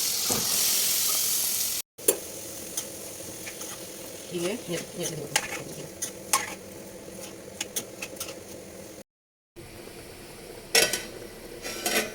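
Potatoes frying for alu bhaji sizzle in a pan in a home kitchen, a steady hiss broken by stirring scrapes and utensil clinks against the pot, heard close with brief gaps.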